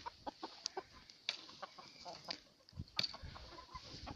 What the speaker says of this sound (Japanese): ペーターまたニワトリの餌食べに来てる。